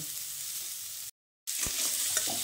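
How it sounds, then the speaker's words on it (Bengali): Onion and garlic frying in a pan while being stirred, a steady soft sizzle broken by a brief silent gap, then spatula scrapes and clinks as stirring resumes. "ততক্ষণ এইভাবে রসুনের সঙ্গে ভালোভাবে নেড়েচেড়ে নেব"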